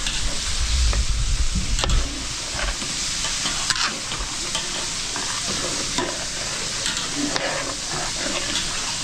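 A pot of food is stirred as it cooks and boils at a steady rolling simmer, with loud sizzling and bubbling and sharp clinks of the spoon against the pot, and no voices.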